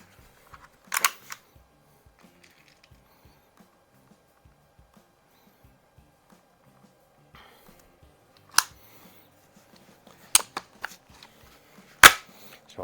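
A Crosman model 101 multi-pump air rifle fires in a few sharp, isolated cracks spread through otherwise quiet stretches, with faint clicks between shots and no talking.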